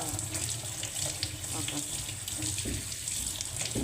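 Mutton is washed under running tap water, a steady close rush of water splashing into a sink, with brief handling sounds and a voice speaking faintly at moments.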